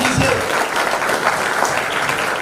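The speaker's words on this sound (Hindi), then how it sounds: "और एक केवल भाई के लिए बहुत जोरदार ताली" Audience applause at an event, a dense, sustained burst of many hands clapping at once, loud and even throughout with no speech over it.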